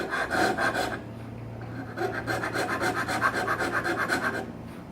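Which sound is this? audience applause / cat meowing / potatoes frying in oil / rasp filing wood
rasp filing wood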